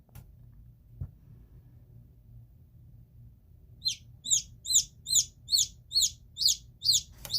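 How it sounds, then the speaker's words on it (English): A newly hatched chicken chick peeps inside an incubator, a rapid series of about eight high, clear chirps in a steady rhythm after a few quiet seconds with a soft knock. "Right now we are just waiting for the chick to dry out before we remove the chick from the incubator and we move the chick to the brooder."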